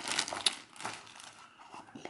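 Crinkly plastic rustling and tearing, close up, with a few sharper crackles as a bag is pulled open.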